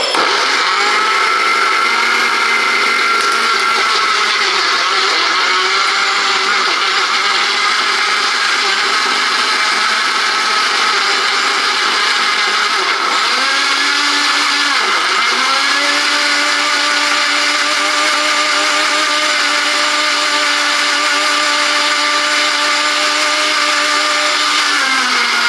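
A Silvercrest 600W blender (SSMKH 600 A1) whirs loudly and continuously while blending tomato juice, its motor pitch dipping briefly midway and then settling into a steady drone.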